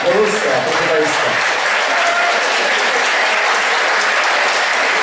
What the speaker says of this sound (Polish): I specjalne brawa dla tych wszystkich, którzy przyczynili się.